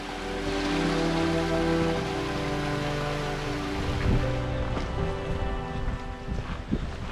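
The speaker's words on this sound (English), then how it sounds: "you can see some water falling through this bridge" Water spills beneath a bridge on a mountain trail in Acadia National Park, a continuous broadband rush and splash heard up close and fairly loud throughout.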